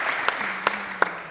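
A few scattered claps ring out from a small audience at a Berlinale Talents panel talk, three sharp hand claps standing out over a quiet, humming room.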